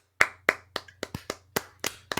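Roughly ten close, sharp hand claps from one or two people on a podcast, spaced unevenly like a small round of applause in a quiet room.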